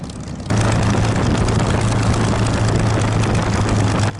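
Vintage propeller warbirds, a P-51 Mustang and a Spitfire, taxiing at Gatineau Airport, a loud steady piston-engine drone with a low throbbing hum that starts abruptly and holds evenly for about four seconds before cutting off.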